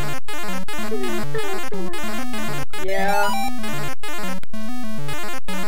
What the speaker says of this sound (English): This is the sound of Mario walking.